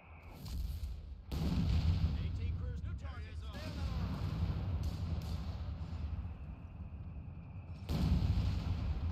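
Gunfire and artillery in Company of Heroes 3, with heavy booming blasts and rattling shots rolling across a dense battlefield din, loud bursts at the start and end, while someone talks over it.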